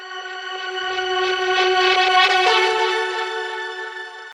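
A single harp note, drenched in reverb and reversed, swells up as a smeared sustained tone in a liquid drum and bass track, rising then fading as a transition effect, with no talking.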